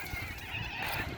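Geese honking in a garden paddock in Queensland, Australia, on a windy midwinter afternoon: a continuous, fairly loud chorus of overlapping honks and calls with no talk.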